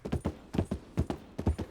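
Horse hooves clip-clop in a steady, close rhythm of paired beats, loud and clear, with no talk over them.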